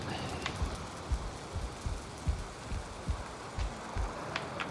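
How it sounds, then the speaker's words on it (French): Soft, steady rain patters on a surface in the video game Valheim, with faint low thumps recurring every half second or so; quiet and without voices. "Ah, il pleut bien."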